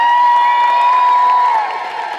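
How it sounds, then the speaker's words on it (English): An audience at a Tiki Oasis costume contest cheers and shouts loudly, with a sustained whistle-like whoop riding over the crowd noise for a couple of seconds before fading slightly. "Let's get that applause meter revved up and going"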